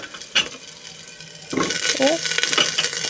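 Potato pieces, onion and lentils drop into a cooking pot with a small amount of oil, a short clatter and splash followed by a soft sizzle and stirring scrape, close up.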